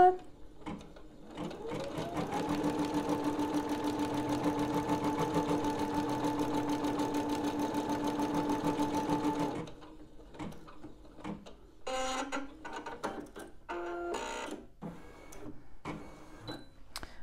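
SKITCH embroidery machine stitching the next thread colour, a steady fast rhythmic whirring and needle ticking lasting several seconds, then stopping, followed by clicks and handling noises nearby.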